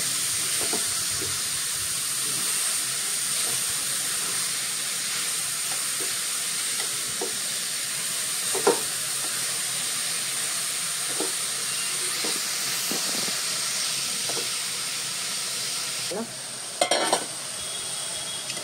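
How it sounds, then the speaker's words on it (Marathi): Carrots sauté in ghee with an even, close sizzle and hiss, broken by scattered soft taps and scrapes of stirring and a brief clatter near the end. "आता मी तुपावरती परतून घेतो आहे गाजर"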